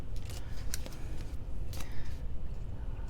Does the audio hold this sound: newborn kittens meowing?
no